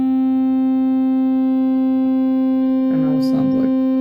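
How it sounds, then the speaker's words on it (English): Combining triangle and sine oscillators, a synthesizer holds a steady, sustained, buzzy tone, and a voice briefly speaks over it near the end. "I will stay with sine sound and I will add that up."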